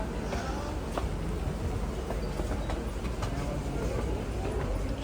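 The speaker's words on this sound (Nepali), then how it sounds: "so finally we are in monorail यहाँबाट स्टार्टिङ भयो" A steady, continuous rumble and rattle of a small monorail train in motion in Pocheon, South Korea, heard from inside the carriage, with no pauses.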